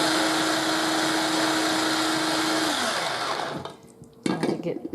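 A blender whirs steadily, loud and continuous, mixing vinaigrette into a Greek chicken pasta salad, then spins down and stops, followed by a few clinks and handling knocks.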